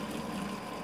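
An LG WT1101CW top load washer pours a little water onto an unbalanced load, giving a steady, even rush of liquid with a low mechanical hum, unbroken and fairly close.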